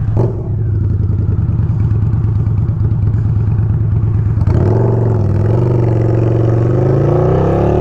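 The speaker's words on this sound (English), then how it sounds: "It has a unique sound, and I mean, it just looked like something Batman would be riding down the street" A 2017 Harley-Davidson V-Rod Muscle motorcycle engine runs loud and close with a deep, steady idle, then the revs lift and hold a higher, rougher drone.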